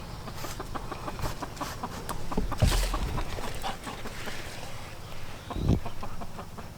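A brooding Chickenbach hen clucks in soft, repeated murmurs from a nest alongside another hen, with a Muscovy drake nearby; two louder, sharper calls stand out over a steady outdoor background.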